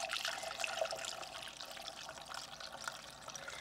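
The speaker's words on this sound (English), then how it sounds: "and we'll pour our cucumber vodka back into the bottle" Cucumber-infused vodka pours through a small funnel into a bottle, a soft continuous trickle of liquid that runs steadily at close range with no one speaking.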